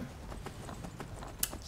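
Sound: horse hooves clip-clopping in Skyrim video game

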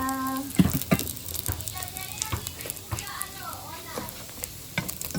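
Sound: meatballs frying in a pan

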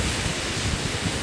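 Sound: northerly wind blowing at an icy shore

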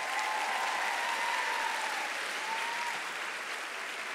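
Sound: audience applause at honors ceremony

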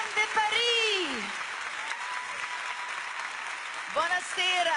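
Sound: audience applause for the Notre-Dame de Paris cast

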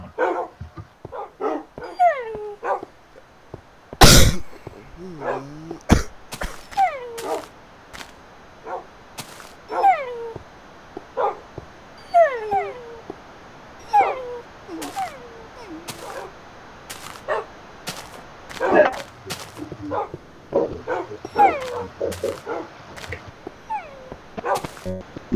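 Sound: dogs barking and whimpering in Minecraft video game

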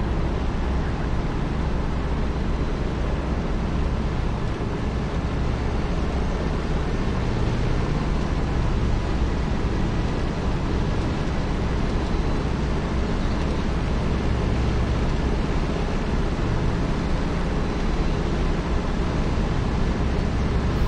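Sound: P-47D Thunderbolt engine run-up with RPM changes in DCS video game

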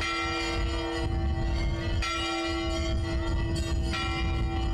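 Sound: church bells ringing at new village church

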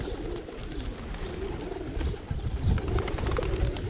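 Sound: pigeons cooing while being fed

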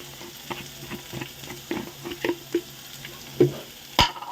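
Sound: chickpeas frying in oil (tempering)

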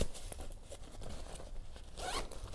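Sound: zipper on a hiking backpack

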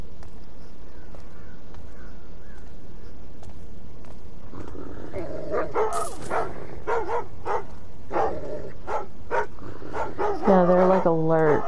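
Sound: dogs barking in a video game (Thief)

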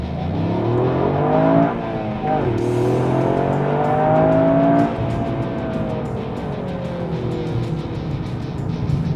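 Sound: Toyota GR Yaris driving in sport mode

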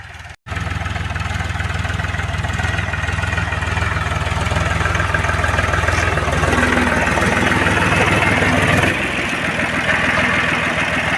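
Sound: tractor engine running in a wheat field

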